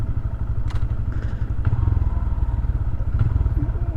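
Honda Grom motorcycle engine idling in traffic while cruising city streets, a steady close low thumping rumble that runs throughout with a few faint clatters on top.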